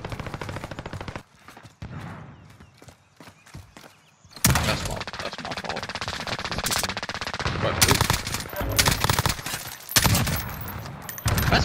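Unsuppressed automatic gunfire in Call of Duty Warzone: loud, sustained bursts of rapid shots with breaks between volleys and some impacts, after a quieter stretch with faint game sounds.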